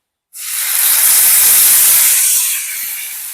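Tomato, ginger and green chili paste hitting hot oil in a pan, a loud sudden sizzle that bursts in at once and holds as a steady bright hiss, easing slightly toward the end.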